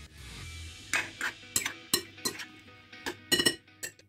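Utensil clinks and scrapes against a bowl as vegetables are stirred, a series of short irregular taps close up in an otherwise quiet room.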